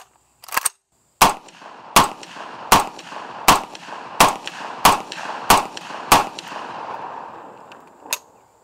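Mark 47 pistol shots on a range, one early pop followed by a steady string of eight loud, evenly spaced cracks about two-thirds of a second apart, then a pause and one final shot, close and without talk.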